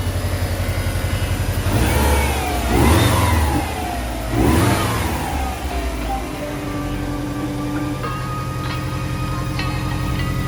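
Revving of a JDM EJ205 engine swapped into a Subaru Forester, with two strong throttle blips that rise and fall over a steady idle, close by and loud, with no talking.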